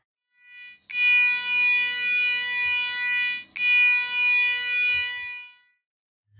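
A passive buzzer driven from a microcontroller's PWM pin gives off a steady, loud electronic tone with rich harmonics, sounding in two sustained stretches separated by a brief break, alone with no voices.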